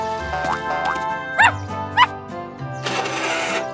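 Small dog in a French children's cartoon about rescue trucks gives several short, springy yips and barks in quick succession, set against a bouncy musical score, with a burst of noise at the end.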